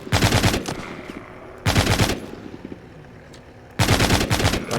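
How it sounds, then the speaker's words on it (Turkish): Rapid automatic gunfire from the mobile zombie game Walking Zombie 2, in three loud bursts separated by quieter gaps of game background, with no voices. "Yolda giderken diğer zombileri de vuruyorum."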